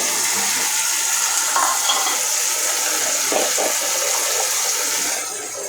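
A splash of water from a rinsed spice bowl poured into a pan of ground spice paste for Bengali shing fish curry, giving a continuous hissing, bubbling sizzle with a few soft clinks.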